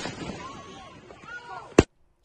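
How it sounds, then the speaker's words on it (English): A single sharp gunshot cracks out near the end, loud and sudden, after a stretch of quieter background noise, then silence. "let's listen for the gunshots"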